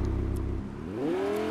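A loud car engine in the Fortnite video game revs steadily, its pitch climbing smoothly over a second and a half, with no talk over it.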